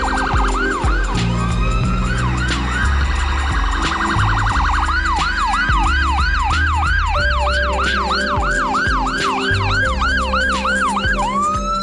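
An ambulance siren wails loudly and continuously in repeated rising-falling cycles, with a faster yelp pattern taking over partway through, sounding close on a road in Canada.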